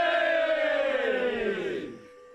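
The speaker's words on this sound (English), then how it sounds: "The combination of that bell and the cheer puts a charming spin into the room" A crowd in St. Peter's Pub in South Bend shouts a long, loud "hey" in unison to greet someone arriving. The chorus slides down in pitch and then fades out.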